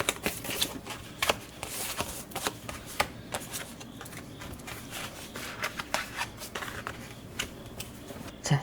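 Oracle cards are shuffled for a tarot reading, a close run of quick papery riffles and flicks repeating in irregular bursts, with no talking.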